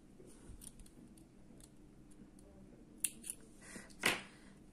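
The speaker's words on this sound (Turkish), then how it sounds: "Daha sonra alttaki ipimi de kesiyorum." Scissors cut thread during Turkish needle lace work, making two faint, crisp snips close by near the end. Quiet room hiss and a few small ticks are heard before them. No one speaks.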